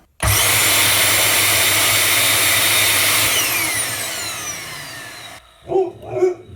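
A Samsung vacuum cleaner motor roars loudly and steadily during a repair test run, then winds down with a falling whine before cutting off; a dog barks briefly at the end.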